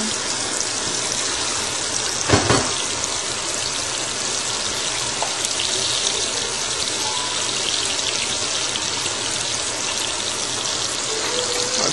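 A tap runs continuously into a sink, a loud, close, steady gush of water with a brief knock partway through, no voices.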